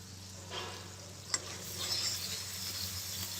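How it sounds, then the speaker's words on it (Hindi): Masala sizzles and hisses steadily in a pan over a medium flame while it is stirred, with a single sharp scrape of the spoon partway through and no talking. "और इस मसाले को अच्छे से भून लेंगे।"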